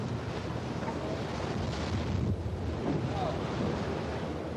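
Heavy ocean surf churns and roars around a sinking ship, a dense continuous wash of water and wind buffeting the microphone with no letup.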